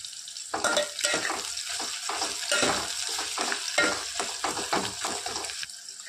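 Onions with green chillies fry in a pan while being stirred, a dense crackling sizzle broken by repeated scraping strokes, fairly close and steady.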